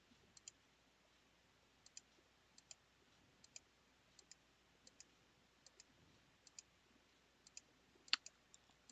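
Computer mouse clicks placing points for a polygon selection, faint and close, spaced roughly every half second to second in a steady series, alone in a quiet room.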